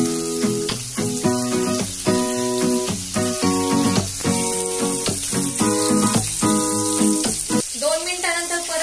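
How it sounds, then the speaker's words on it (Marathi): Fish fries in very hot oil for a rustic village-style fried fish, giving a continuous bright sizzle beneath a rhythmic tonal background that resembles music. "फ्राय करताना थोडस तेल कडक टाकून घ्यायचं म्हणजे फिश पण मस्त फ्राय"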